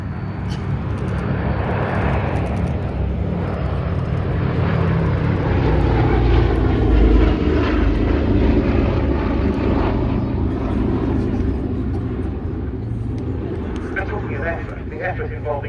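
A preserved, privately kept vintage propeller aircraft flies past at the RAF Cosford air show. Its engine drone swells, peaks and fades over several seconds, and a commentator talks throughout.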